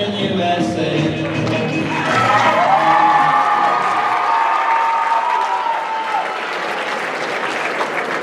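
A crowd at a live school show claps and cheers after a surf-rock song, a loud sustained burst of applause with whoops, and a few voices and a lingering tone rising over it midway.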